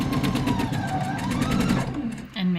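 A sewing machine stitches fabric for a robe jacket, a fast, steady mechanical whir running close and loud before it briefly slows and stops near the end.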